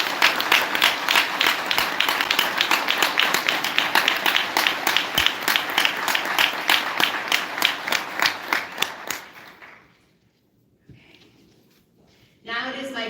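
A seated event audience gives a dense round of clapping that holds steady for about nine seconds and then fades out, before a voice begins speaking.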